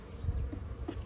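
Honeybees buzz during a hive inspection as frames are lifted out, a soft, steady hum with small bumps of handling noise close by.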